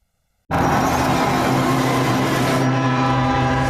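A train starts loud and close after a brief silence and keeps rumbling steadily along the railway tracks, with sustained low tonal hum and broadband rattle of rail wagons.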